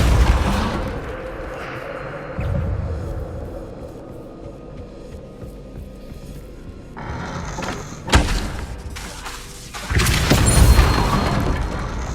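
A Bombarda explosion spell cast in Hogwarts Legacy lands as a sharp, heavy boom midway through, followed later by a louder rumbling burst and debris-like clatter, amid quieter ambient rumble and brief talk.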